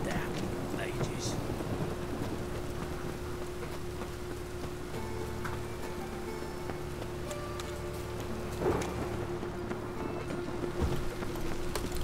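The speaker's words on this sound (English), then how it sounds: "Rain again." A heavy rainstorm in The Witcher 3: Wild Hunt video game gives a dense, constant rush of rain with a low rumble of thunder underneath. A few brief louder swells break through, and a faint hum sits below the rain.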